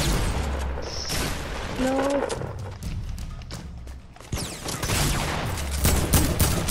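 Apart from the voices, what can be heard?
gunfire from video game Fortnite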